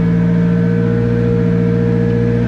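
A Nissan S15 engine runs loud and steady with a constant droning hum as the car pulls away in first gear after a gearbox change, with no speech.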